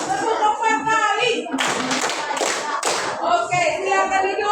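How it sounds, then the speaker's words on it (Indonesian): A classroom of children claps in a short counted burst of about four quick, loud claps, with voices talking just before and after. "Tepuk 4 kali"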